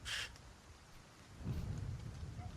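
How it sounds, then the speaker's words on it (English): Heavy rain pours steadily as a thunder effect, with a sharp crack at the start and a deeper rolling rumble later, loud and close with no talk. "it's pouring rain"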